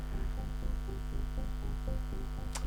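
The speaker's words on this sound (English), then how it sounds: "coming in with the hair dryer" A hair dryer runs close by, heating rust-effect paint on miniature wargame barricades, giving a steady, droning electric hum with a regular pulsing motor rhythm and a brief sharp click near the end.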